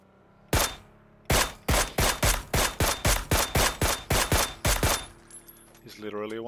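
Rapid burst of about fifteen Mini 14 rifle shots in PUBG, loud, sharp and evenly spaced, cracking close by and then cutting off into a faint trailing rattle.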